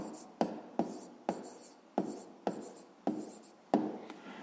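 Pen writing out a math answer on paper, a series of about ten short, sharp scratching strokes at a brisk, regular pace, close and quiet, with no voices.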